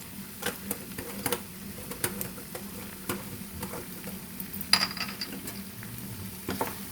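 Chili powder and spices are stirred into a sizzling potato and brinjal curry. A spoon scrapes and taps the pan in irregular strokes over a soft, continuous frying hiss, with no voices.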